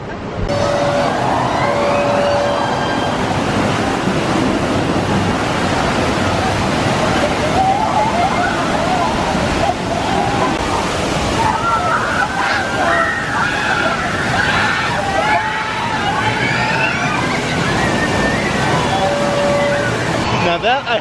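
Water rushes and splashes loudly and without a break around the Popeye and Bluto's Bilge-Rat Barges river raft ride at Universal's Islands of Adventure, with distant voices and park sounds faintly mixed in.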